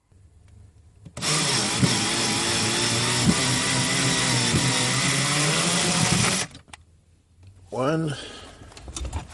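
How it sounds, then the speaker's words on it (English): A cordless drill runs in one long continuous whir of several seconds, loosening a fitting on a propane stove inside a van, then stops, and a voice speaks briefly close by afterward. "Use this drill to take it off."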